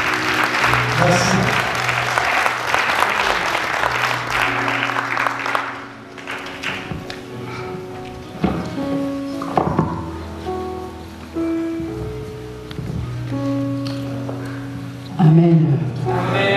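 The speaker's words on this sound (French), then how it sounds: "Est-ce qu'on peut acclamer Dieu pour encourager la pasteur?" A church congregation claps loudly and densely for about six seconds to acclaim God and welcome the pastor, then the applause fades as a voice speaks and tonal sounds follow.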